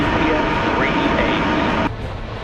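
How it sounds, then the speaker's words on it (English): Loud, dense broadband roar from a SpaceX Falcon rocket at ignition and liftoff, a steady rumbling wash that drops away sharply near the end. "ignition, and liftoff. Go Falcon, go GPS"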